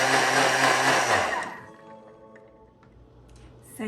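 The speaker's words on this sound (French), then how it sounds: "on part 1 minute à vitesse 10 pour mixer le tout" A Thermomix blends almonds and water at speed 10, a loud, dense whirring roar for about a second and a half that then winds down into a quiet, fading spin.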